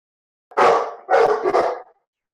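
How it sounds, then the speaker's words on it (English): Dogs barking indoors: two loud, close bursts of barking, the second a quick double bark, then quiet. "My dogs are freaking out"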